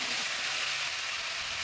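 Tomatoes hitting a hot pan with leafy vegetables cooking in a home kitchen, a loud, steady hiss of sizzling oil that holds even and close throughout the short moment.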